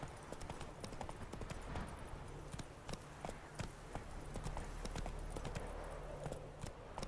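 A horse trots in The Witcher 3 video game with steady, rhythmic clip-clop hoofbeats, moderately close, over a low rumbling ambience for about seven seconds.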